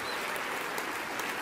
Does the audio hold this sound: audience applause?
yes